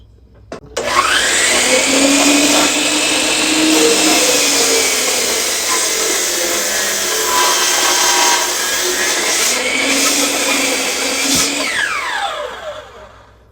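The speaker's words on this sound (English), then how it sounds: "we want to cut straight down in the center of the board" A miter saw cuts straight down the center of a wood board for a bread platter, a loud, steady whining buzz that spins up, holds through the cut for about twelve seconds, then winds down, with no talking.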